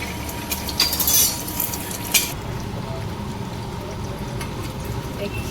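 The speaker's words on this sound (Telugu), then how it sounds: "సరిపడా ఆయిల్ వేసుకొని ఆయిల్ హీట్ ఎక్కిన తర్వాత గుడ్లు వేసుకోవాలి" Eggs crackle into hot oil in a pan for homemade egg fried rice. A bright sizzle and a few utensil clinks come early, then a softer frying hiss continues while a voice talks.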